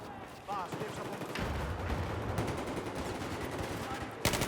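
Gunfire in the video game Battlefield 4, sustained rapid automatic bursts and blasts filling the mix at moderate loudness, with a few brief changes in the shooting and a sharp burst near the end.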